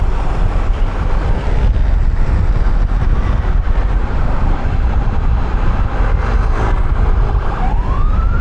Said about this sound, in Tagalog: may ambulansya tabi tayo dapat sila yung nasa high speed